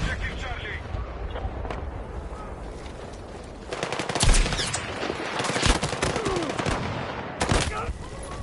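Gunfire in the video game Battlefield 6: a quieter stretch gives way to bursts of rapid shots and sharp single cracks, close and loud, with a voice talking over parts of the action.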